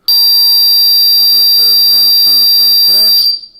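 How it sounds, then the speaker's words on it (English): A DIY home security system's alarm goes off indoors: a loud, continuous high-pitched electronic siren tone that holds steadily for about three seconds, with a synthetic voice announcement sounding over it before it cuts off. "All you have to do is press it and the alarm will go off."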